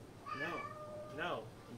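A house cat meows twice, with rising and falling calls about a second apart, fairly faint and indoors, with a quiet hum in the background.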